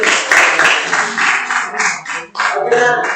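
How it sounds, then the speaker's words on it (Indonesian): Classroom applause in an economics lesson, a short burst of clapping from students that rises and dips in waves, with some voices mixed in. "beri tepuk tangan buat Bapak."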